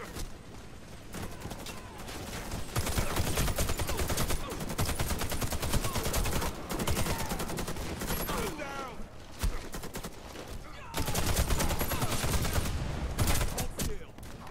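Rapid automatic gunfire in the video game Warface, loud sustained bursts broken by brief pauses, with a voice talking over the shooting at times.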